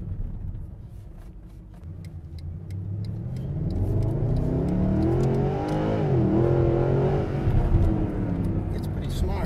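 A Mercedes SLS AMG Gullwing with traction control switched off revs hard while sliding on narrow Glendale streets, its engine note climbing and wavering loudly through the second half, with a person talking over the drive.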